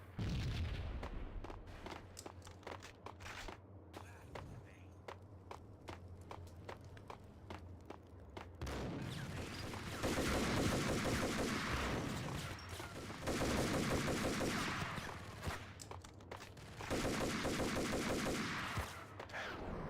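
Gunfire in the video game Max Payne 2: sharp repeated shots at first, then dense sustained bursts of automatic fire and explosions swelling in loud waves.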